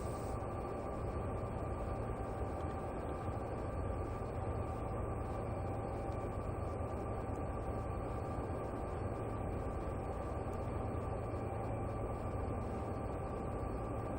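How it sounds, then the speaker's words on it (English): Continuous low rumble and steady hum of a train running, an even drone with no break and no voices. "I'm going to take the train now down to 5 miles an hour."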